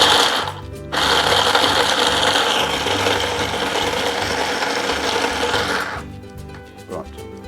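A food processor pulsing nuts runs in a continuous grinding burst for several seconds, rattling and chopping, then stops, followed by a short quieter pulse.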